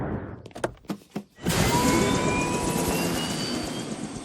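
A cartoon helicopter in Family Guy starts up after a few brief knocks and thumps, then settles into a steady, loud rotor and engine roar that holds for the rest of the clip, with no talk.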